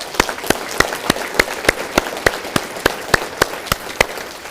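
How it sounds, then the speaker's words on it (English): A round of applause from an audience at a State of the City 2024 address, with about fourteen sharp, evenly spaced claps standing out clearly over a soft wash of background noise. "So let's give them a round of applause."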